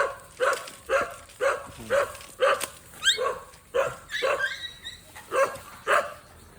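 Pet dogs on Mount Aratat bark repeatedly at a fairly even pace, about twice a second, with a few higher yips mixed in midway.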